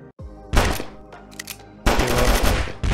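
Bursts of rapid gunfire in the Among Us Arena fighting game, two loud dense volleys separated by a shorter patter of shots, close and harsh with no talking over them.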